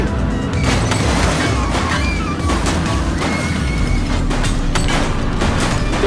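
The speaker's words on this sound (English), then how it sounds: "He's shooting!" Gunfire from a suspect in The Precinct, an open-world police game, loud rapid shots and crashing impacts over a dense, continuous rumble of action, with no voices.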